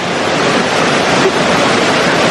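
Rushing water at Adom Waterfalls in Ghana, a dense, steady roar of falling water close by, continuous and loud, with no voices.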